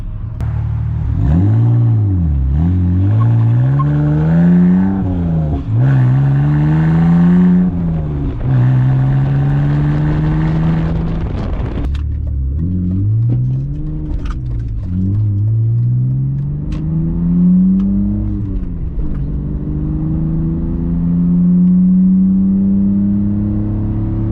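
A BMW E46 with its muffler deleted revs loudly and repeatedly up close, each pull rising in pitch through the gears before dropping back, with deep raspy exhaust drone between bursts.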